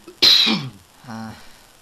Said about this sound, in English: Someone was coughing